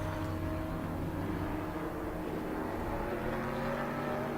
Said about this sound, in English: So Varney into pit lane now